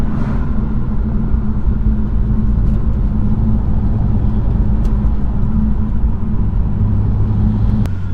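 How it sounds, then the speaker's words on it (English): A BMW F80 M3 on the road, its engine a steady loud rumble throughout with the turbo spooling, cabin drone continuous and close. "don't know if you guys can hear the turbo spooling, but it sounds really good."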